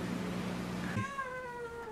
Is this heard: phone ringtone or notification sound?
no